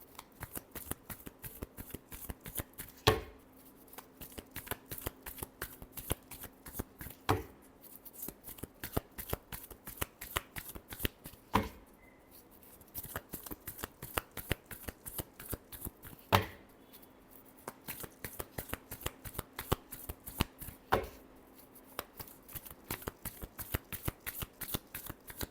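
Tarot cards shuffled by hand in steady, crisp riffling bursts, close and fairly quiet, with brief pauses between runs of rapid card flicks.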